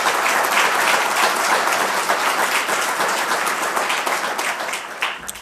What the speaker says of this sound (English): I really want you to just a round of applause for all the people who are anonymous